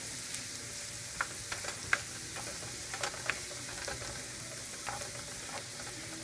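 Green onion sizzles and fries in fat in a pan while baked beans are being made: a steady, hissing crackle with scattered soft pops and clicks of stirring, moderately quiet, with no voices.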